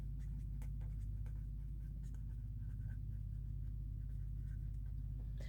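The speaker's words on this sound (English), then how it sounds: "I'm gonna write that down" Pen writing on paper, soft irregular scratching strokes close to the microphone over a steady low electrical hum.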